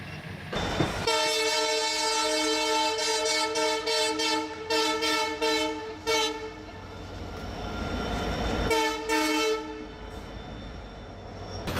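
A train rumbles past nearby in the desert with loud, sustained horn blasts that sound repeatedly and stop, over the steady roar of the rail cars.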